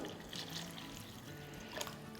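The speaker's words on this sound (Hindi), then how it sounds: "और अब इसमें डालेंगे अराउंड 2 कप पानी।" About two cups of water pour into a cooking pot of mashed potato for chickpea ragda chaat, a short, quiet splashing gurgle with a slight slosh near the end.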